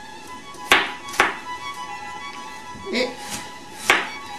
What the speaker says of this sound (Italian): Questa è una cipolla giovane molto dolce, tagliarla a spicchi abbastanza grossolani